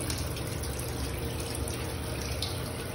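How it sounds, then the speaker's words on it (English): Water runs steadily from a waterfall-style rain faucet in a newly remodeled bathroom, a constant close hiss of flowing water with no talking. "new faucets, like one of those rain faucets, like waterfall kind of faucet"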